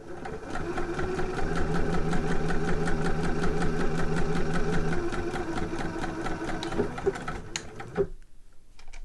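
Sewing machine running steadily to stitch along the edge of a trouser hem, a fast even whirring rhythm that holds close and loud for about eight seconds before stopping with a clunk.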